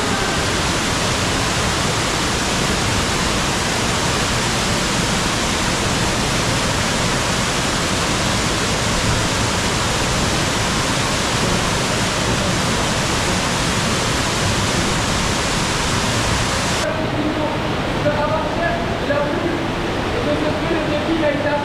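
Constant roaring rush of a waterfall inside the underground Bouiche cave, broadband and steady throughout, close and loud; the roar drops slightly in the last few seconds as the position shifts.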